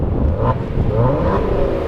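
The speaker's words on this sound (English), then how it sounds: "This has a really nice sounding quad tip exhaust. I'll rev it a little bit." A 2017 Maserati Ghibli S Q4 with a quad tip exhaust revs up close, a loud, full engine note that swells and eases over a couple of seconds, with no talking.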